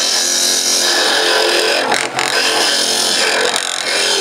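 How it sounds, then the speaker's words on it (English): A power drill bores into a small wooden birdhouse ornament to hollow it out, a loud continuous grinding whine with brief dips as the bit catches, close up with no talk. "The only purpose in drilling this out and hollowing it is to reduce the weight somewhat."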